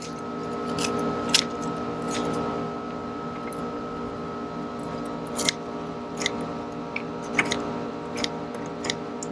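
Scissors snip repeatedly through crisp pizza crust, a series of sharp irregular cuts over a steady background hum, close and fairly quiet.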